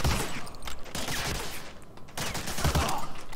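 Rapid gunfire crackles in Medal of Honor: Allied Assault, a World War II shooter, with dense bursts of shots that drop away briefly near the middle and then return, loud and close.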